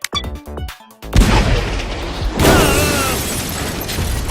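A cannon in a cartoon fires with a loud boom, blasting a character out of its barrel, followed by a sustained roaring, whooshing burst that trails off.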